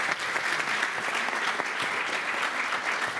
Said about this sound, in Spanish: De manera que a todos un aplauso